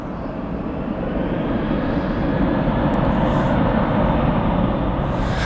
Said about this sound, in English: Sun Country flight 674 on its way to Minneapolis. That is a 737-800 seen in the background.